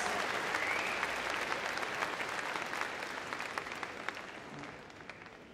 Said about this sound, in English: Nice round of applause for Ruby